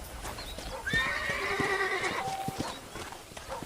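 A horse whinnies loudly with a long, wavering neigh, while hoofbeats clop around it in the Western video game Red Dead Redemption, with faint game ambience underneath.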